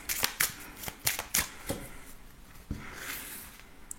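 Tarot cards being shuffled for a card reading, with a rapid run of crisp riffles and flicks up close, then a longer softer sliding rustle as the deck settles, and no talking.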